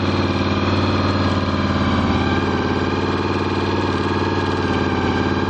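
A car engine idles steadily and loudly up close, a constant rumbling drone with no voices.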